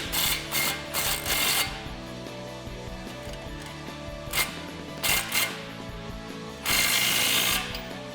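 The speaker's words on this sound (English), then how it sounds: "now we can tighten down that clamp" A ratchet tightens the exhaust tip clamp on a Roush cat-back exhaust with black tips, fitted to a 2015-2019 Mustang EcoBoost. Several quick clusters of clicking bursts come close up over a steady tonal background.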